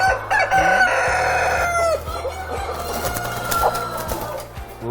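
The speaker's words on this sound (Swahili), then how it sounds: "na nigukuonia jogoo iyo ro riu" A rainbow rooster crows at a poultry farm, one long loud crow with clucking from other fowl and a steady low mechanical hum underneath.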